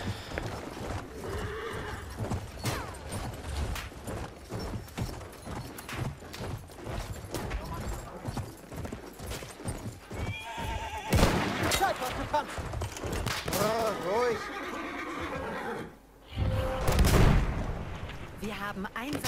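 Hooves pound in a fast gallop as a horse charges in the World War I game Battlefield 1 on a desert map, with repeated whinnies, scattered gunfire and artillery blasts, and someone speaking in between.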